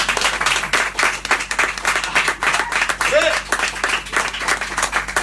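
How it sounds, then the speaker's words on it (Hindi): A church congregation claps together after a prayer service, dense continuous applause filling the room at close range, with voices mixed in. "बजाओ ताली।"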